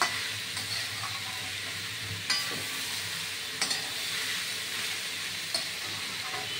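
Ash gourd ghonto, a traditional Bengali curry, frying and being stirred in a pan: a continuous soft sizzle with occasional sharper spatula scrapes and clicks, close and alone without talk.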